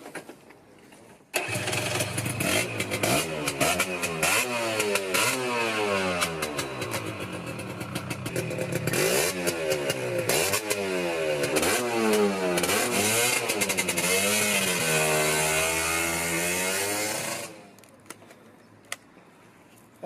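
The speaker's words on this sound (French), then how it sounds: "On va essayer ce deux temps, prêté par Marc Alias, le pape du deux temps" A borrowed two-stroke motorcycle kicks into life after a short silence, then its engine revs up and down repeatedly in loud, close, rising and falling blats before cutting off abruptly.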